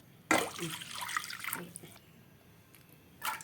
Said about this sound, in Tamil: ரெண்டுலேருந்து மூணு கிளாஸ் வரைக்கும் நான் தண்ணி சேர்த்துக்கிறேன்